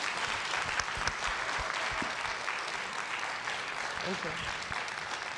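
Audience applause at a university faculty research forum, sustained broadband clapping filling the clip, with a voice briefly speaking over it near the end.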